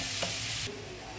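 Food sizzling and stirred in a pan over low gas for a Shravan-month special recipe, a close, dense frying hiss with a brief scrape that drops slightly in level partway through.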